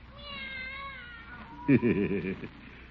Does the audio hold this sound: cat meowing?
yes